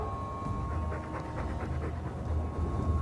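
A Mabari war dog from Dragon Age II pants in a quick, steady rhythm over a low ambient hum. The panting is soft and moderately close.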